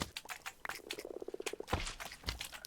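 Minecraft frogs eating small slimes in a mangrove swamp, a run of quick soft croaking and gulping pulses up close, with brief squelchy pops and chirps scattered around them.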